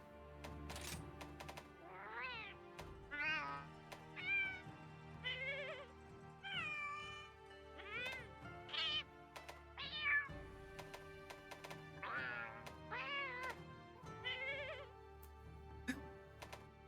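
A series of Palico cat meows from the Monster Hunter Rise video game, about a dozen separate voice variations played one after another, each a short, clear, nasal, rising-and-falling mew standing alone over faint game music.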